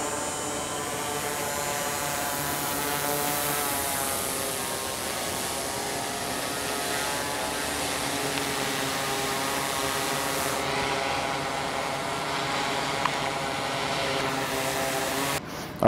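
A drone copter hovers overhead with a continuous buzzing whine, steady and moderately loud throughout.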